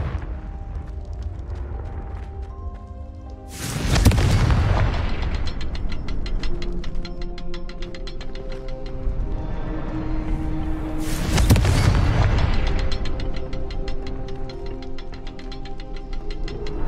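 In Hogwarts Legacy, two Confringo spell blasts burst out several seconds apart, each a sudden loud boom with crackling debris, set over a low ticking, mechanical game ambience.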